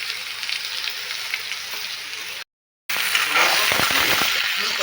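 Chayote squash fries in a hot pan, giving a steady close sizzle that drops out for a moment and then comes back louder and crackling as the pieces are stirred.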